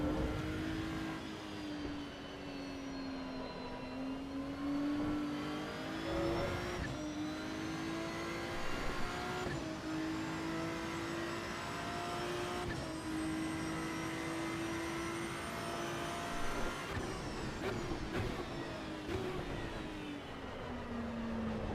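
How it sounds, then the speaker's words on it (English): Ferrari race car engine in the racing game Assetto Corsa EVO, a loud continuous roar whose pitch rises and falls through gear changes and throttle shifts, with no talking over it. "I have no idea if the Ferrari sounds accurate or not."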